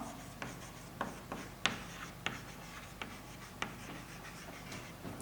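Chalk or marker strokes on a board while a chemistry problem is worked out, a quiet, irregular series of short scratchy taps and rubs with no voices.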